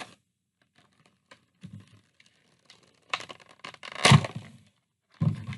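Hard plastic packaging being pulled and cracked open by hand, with sparse crinkles and snaps building to a loud burst of cracking and tearing near the end, close up.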